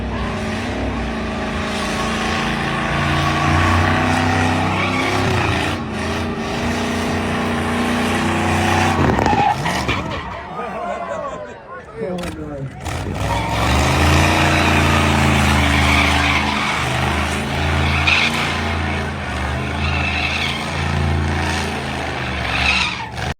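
A 500hp Barbie car does a smoky burnout at SEMA, its engine roaring loud and continuous with screeching, squealing tires, briefly dipping before revving hard again.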